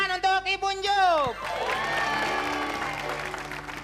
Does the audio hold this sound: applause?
yes